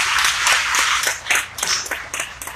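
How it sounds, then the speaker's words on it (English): A town hall audience claps, with a loose cluster of close, sharp handclaps rising and thinning over a couple of seconds. "let's give Riverside a round of applause, please"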